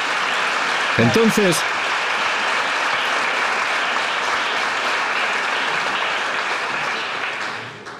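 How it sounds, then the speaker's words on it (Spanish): Steady, dense applause from a large audience at a talk or masterclass, filling the whole stretch and fading slightly at the end, with a brief spoken word near the start. "un aplauso"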